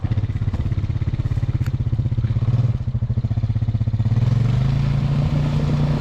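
Dirt bike engine droning with a pulsing, choppy beat as the tires spin in a mud pit, the tone rising toward the end, close and loud with no talk.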